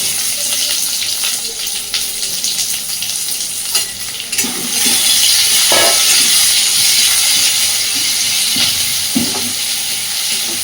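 Chopped onion and green chillies hit a hot pan with crushed garlic, giving a loud, steady sizzle with the scrape and clatter of stirring, close up, with no talking.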